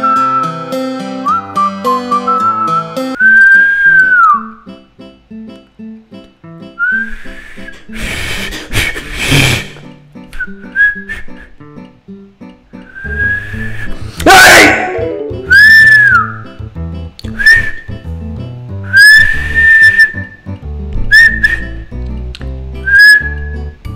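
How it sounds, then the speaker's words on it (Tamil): A person whistles a series of clear, sustained notes and short rising and falling phrases at close range, alone, with brief breathy pauses and a few noisy bursts between them. "விசில் அடிப்போம், விசில் அடிச்சா சத்தம் அதிகமா வராது"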